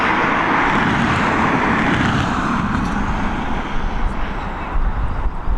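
An airliner climbs out after takeoff from Dublin Airport with its landing gear being stowed, a steady, loud, broadband engine roar holding for several seconds with a slight drift as it banks away.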